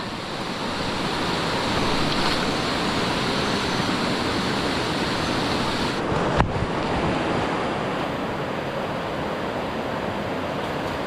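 A swollen river in flood rushes past in a steady, loud roar of churning water that carries away a bridge, with a short sharp knock partway through and no talk.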